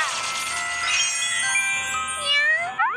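Cartoon cats in an Indonesian children's animation meow and mewl in several high, sliding cries over bright jingly background music.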